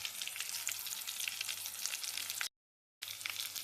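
Stuffed eggplant fries in oil with a steady, crackling sizzle close by, cut by a half-second silent gap before the same frying resumes.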